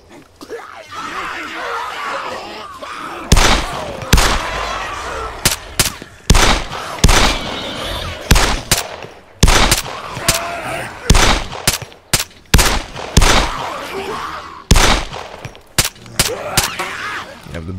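Pistol gunfire in the Arma 3 DayZ survival mod, sharp loud single shots fired one after another at uneven intervals over ambient game noise, with some voices in between.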